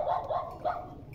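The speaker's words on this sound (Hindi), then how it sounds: "एक कुत्ता भौंकदा पिया" A dog barks near a Friesian-Jersey cross cow for sale, three quick yelping barks in a row, fairly close and moderately loud, with no talk.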